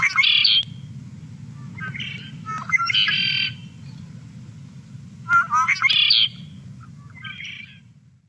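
Red-winged blackbird calls repeating in the open, four or five buzzy, trilling bursts spaced a second or two apart over steady low rumble, some louder and nearer than others.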